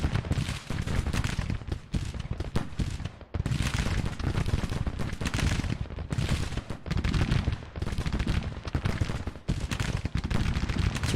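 Continuous rolling musket and artillery fire in the Civil War strategy game Grand Tactician, dense overlapping volleys sustained loudly throughout with only brief lulls.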